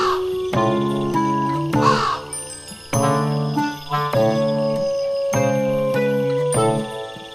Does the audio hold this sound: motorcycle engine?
no